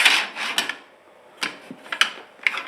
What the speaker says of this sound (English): The miter guide just comes as is right here. It just slides right in.